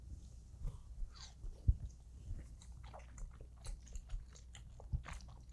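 Close, quiet chewing of tuna sashimi during a Japanese feast mukbang, with soft wet bites and a couple of sharper crunchy clicks scattered over several seconds.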